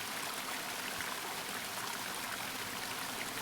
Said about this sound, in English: The water is so loud.